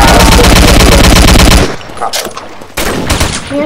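Rapid automatic machine gun fire in a multiplayer shooter video game: a dense, loud burst lasting about a second and a half cuts off abruptly, then gives way to quieter scattered game sounds.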